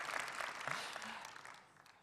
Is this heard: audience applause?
yes